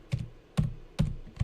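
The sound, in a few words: typing on a computer keyboard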